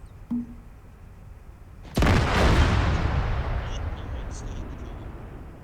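A rocket launched at a BMP armored vehicle in a video game: a sudden loud blast followed by a long rumbling decay, preceded by a small faint click, with no talk over it.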